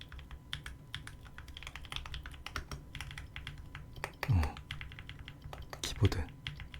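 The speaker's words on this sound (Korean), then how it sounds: "키보드." A computer keyboard is typed on continuously in a quiet ASMR setting, giving a steady patter of close, soft key clicks with a couple of slightly louder thumps and faint breathy vocal sounds underneath.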